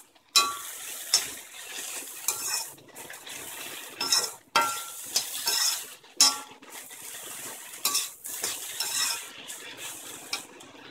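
Okra fries in oil with chilli powder and is stirred with a metal spoon against the pan. Repeated scraping strokes and clinks come close and fairly loud, with a steady crackle of frying underneath.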